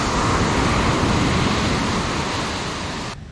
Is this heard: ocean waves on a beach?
yes